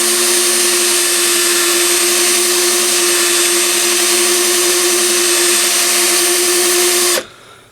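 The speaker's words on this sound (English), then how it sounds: "and we have it in our drill." A drill spins a strip of emery cloth stuck in its end to clean out a hole in a Kenwood TS-520SE radio VFO part, giving a loud, steady high whine that runs without a break and then cuts off abruptly near the end.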